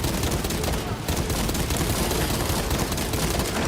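Rapid video game gunfire, dense continuous bursts of shots crackling loudly and steadily across the whole stretch, with a brief dip near one second before resuming.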